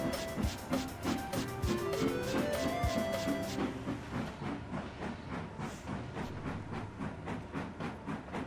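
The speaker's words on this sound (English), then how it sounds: "Here we see Shane waiting with a long coal train." Steam train hauling a long rake of coal wagons in a Sodor railway video game, with rhythmic chuffing and clanking at a steady pace, first with a brief whistle-like tone, then continuing alone without talk.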